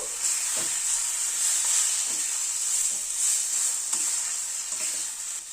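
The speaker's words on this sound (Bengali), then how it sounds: "আর একটু কষিয়ে নেব।" Bean and shrimp mash stir-frying in a pan, a bright steady sizzle with a spatula pressing and scraping at a regular pace, close and alone without talking.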